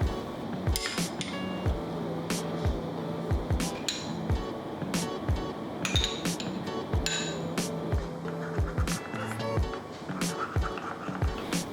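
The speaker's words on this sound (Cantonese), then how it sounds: "跟住將馬蹄粉加水攪勻" Water chestnut flour is stirred with water in a bowl, giving quick, repeated clinks and taps of a utensil against the bowl, close and fairly crisp, with irregular rhythm throughout.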